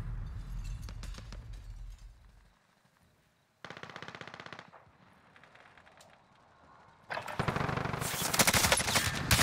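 Shotgun and other gunfire in Call of Duty: Haunting of Verdansk, sharp repeated blasts in bursts separated by quieter gaps, the last burst loud and dense with cracks, no talking.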